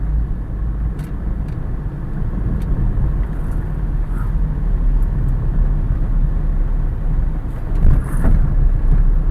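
A Swift Dzire diesel car on a test drive, its engine and road noise a steady low rumble from inside the cabin, continuous throughout with no talking.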